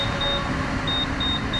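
A Honda PCX160 or ADV160 scooter's alarm sounds a steady high beeping tone pulsing in short repeated bursts over a loud, noisy roadside background.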